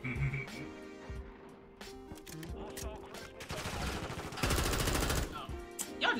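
Rapid bursts of gunfire crackle among people shooting at each other, fairly faint and layered over a busy, mixed background, with volleys growing denser toward the end.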